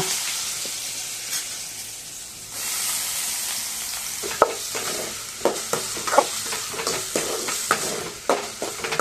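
Potato pieces fry in oil with mustard seeds and green chillies, a broad steady sizzle that swells midway, then carries a series of clacking stirs against the pan.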